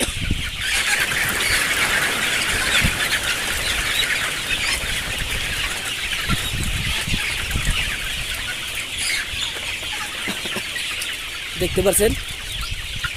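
Sonali commercial chicks on a poultry farm chirp and cluck steadily in a dense chorus throughout, with occasional wing flaps and a brief louder flurry near the end, while a voice speaks briefly.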